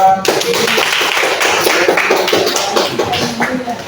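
A classroom group claps for a teacher after a lesson on fertilizer and leaf damage, giving steady, dense applause that sounds close and fills the whole stretch, with faint voices underneath.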